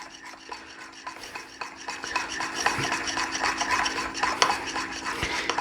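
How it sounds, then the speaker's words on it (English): Confectioners sugar and fresh lemon juice glaze for a blueberry cake being stirred in a bowl, a steady close scraping and rubbing of utensil against bowl with soft clicks, continuing alone without talk. "We're going to give it a stir."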